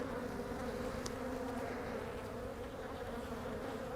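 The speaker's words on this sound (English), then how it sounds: "God, these bees, they are like all up in my face." A thick, constant hum of honey bees swarming close around a beekeeper working an open hive, loud and unbroken with no voices.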